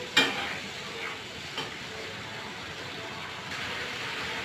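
Green chilies frying in a pan give a steady, moderate sizzle that opens with a sharp crackle as they hit the oil, with a brief flare a little later.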